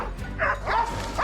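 Hunting dogs bark and yip in a forest while tracking wild boar, a couple of short, moderately distant calls over a steady background.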